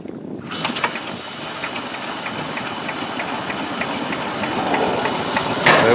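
A BSA sports trike, unused for more than thirty years, catches after being cranked over by hand and settles into a steady, close, fairly loud running note with a light ticking tap.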